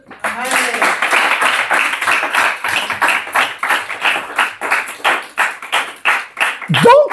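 A church congregation claps in rhythm during a service, a loud, quick run of handclaps that continues across the whole stretch, with cheering voices mixed in near the end.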